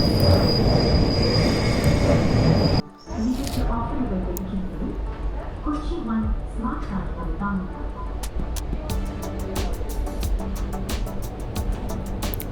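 Kochi Metro train running along a curved cantilever bridge, with continuous rumbling wheel and car noise and repeated squealing and clicking from the wheels through the turn, heard from inside the car.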